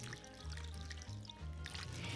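Water poured from a container into a large bowl of raw beef short ribs, a soft, quiet trickle and splash running steadily for a couple of seconds.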